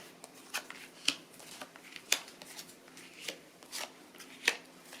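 Tarot cards shuffled for a reading, a sparse series of soft papery riffles and flicks, several sharper snaps standing out against a quiet room.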